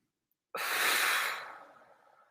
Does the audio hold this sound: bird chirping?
no